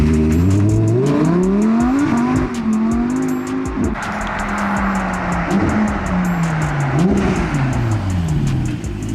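A Lamborghini Huracan on its stock exhaust, loud and close, with the engine pulling up through the revs, dropping back and climbing again several times, each rise a clear rising growl with brief dips between.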